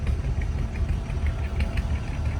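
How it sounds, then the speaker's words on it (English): A steady low mechanical rumble with a faint knocking texture from trams running at a heritage tractor show, continuous and moderately loud with no voices. "They do have trams here, and that's what you hear behind me."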